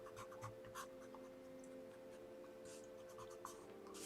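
Soft, steady scratching of graphite pencils, a B and a darker 7B, shading on paper, with quiet back-and-forth strokes close up and faint.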